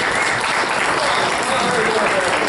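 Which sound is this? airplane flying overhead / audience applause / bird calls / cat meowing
audience applause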